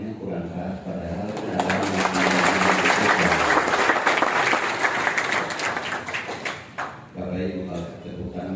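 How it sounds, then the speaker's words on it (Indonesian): Audience applause at the inauguration of MRP Papua members, a steady broadband wash of clapping that swells after a couple of seconds and holds, with talking from the stage before and after it. "Tepuk tangannya kurang keras padahal"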